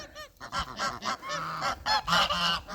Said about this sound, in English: I'll probably introduce the new geese over the weekend